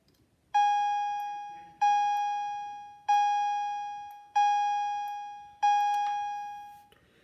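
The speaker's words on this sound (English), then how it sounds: "And for a chime strobe, it's actually rather loud." Wheelock CH70 chime strobe alarm sounding five evenly spaced bright chime strokes, each ringing out and decaying before the next, loud and close with no talking.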